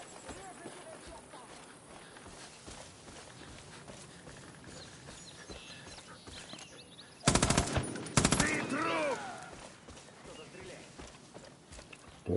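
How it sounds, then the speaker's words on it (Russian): Bursts of automatic gunfire crack out in Far Cry New Dawn, two loud rapid volleys in quick succession, breaking through quieter background game noise and talk. "Кто-то стреляет"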